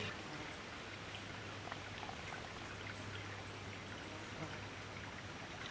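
Water pours steadily into the top of a homemade charcoal water filter, a continuous soft splashing and trickling that runs without pause for several seconds, faint and close with a low hum underneath.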